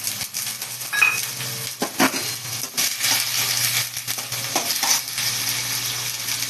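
Chopped vegetables such as beans and carrots tumble into a pan for Nagercoil-style aviyal and get stirred, giving a steady sizzle broken by scraping clatters and soft thumps. No one speaks.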